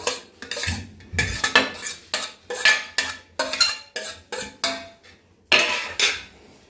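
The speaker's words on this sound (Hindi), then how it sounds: "तो सबसे पहले हम इसमें मिक्स करेंगे प्याज, फिर हम डालेंगे इसमें खीरा और हरी मिर्च।" Onion, cucumber and green chilli being mixed in a bowl, a spoon clinking and scraping against the sides in about a dozen quick, rhythmic strokes, close and clear with no voices.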